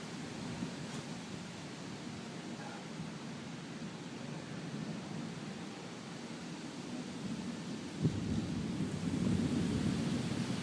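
Distant thunder rumbling low and steady through a lightning storm with hail, swelling louder near the end as a heavier roll builds; no voices.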